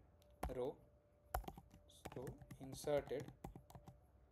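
Java code being typed on a computer keyboard, a quiet run of rapid key clicks in short bursts while someone talks over them.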